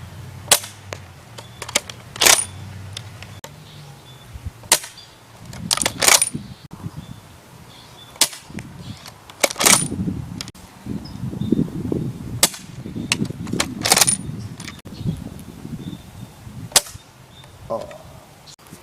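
A D-Boys KAR-98 airsoft rifle firing at a human-sized target 75 feet away, giving sharp, loud cracks spaced several seconds apart. Lower rustling and handling noise fill the gaps, with brief talk in places.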